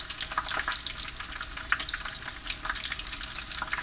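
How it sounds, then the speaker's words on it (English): Continuous crackling sizzle of chicken cordon bleu pan frying, dense popping spatters across the whole stretch with no voices. "pan frying is not hard. It's done in a pan."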